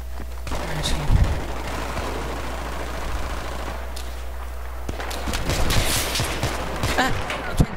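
Gunfire from Battlefield 3 team deathmatch multiplayer on PS3: dense overlapping shots and bursts, steady through the clip with a louder cluster near the end, with no talk.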